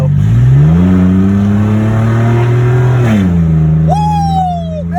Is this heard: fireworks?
no